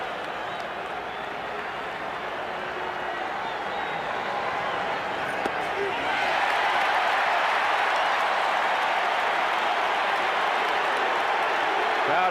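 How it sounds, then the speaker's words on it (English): A packed stadium crowd at the 1986 NLCS Game 6 roars and applauds during a baseball pitch, a sustained wash of cheering that swells louder midway and holds. "Crowd is up on every pitch."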